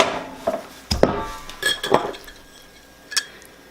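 Softened butter being mixed into cake batter in a bowl, a few sharp spoon-against-bowl clinks and scrapes at irregular intervals, close and moderately loud with quiet gaps between.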